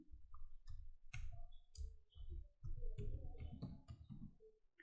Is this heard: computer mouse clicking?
yes